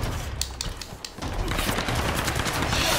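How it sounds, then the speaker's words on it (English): Rapid bursts of gunfire from an armed enemy in a Tomb Raider game, sharp repeated shots crackling close and loud over a dense, steady battle din with no talking. "I think there's somebody else with a gun"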